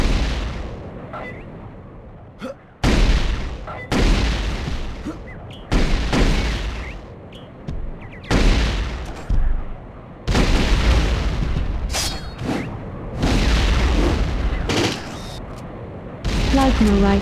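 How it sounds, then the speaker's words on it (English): Plasma rifle shots from a Terminator 2 video game, loud booming bursts in a steady repeating rhythm with short gaps, each blast sharp and close. "Plasma rifle. Plasma rifle. Plasma rifle."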